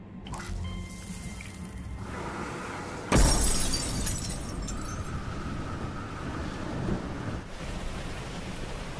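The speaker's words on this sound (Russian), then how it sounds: "Разбить окно?" Glass window smashed in the video game Beyond: Two Souls: a sudden loud crash bursts out of a low rumbling ambience, followed by a scattered tail of debris and noise.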